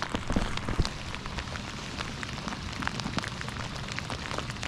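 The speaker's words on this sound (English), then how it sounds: "Rain is kicking back up again." Steady rain falls on a lake during a fishing outing, a dense, even hiss of drops hitting the water with a few louder nearby splatters, continuous throughout with no voices.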